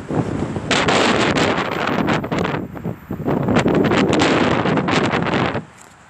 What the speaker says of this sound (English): these winds are gusting really bad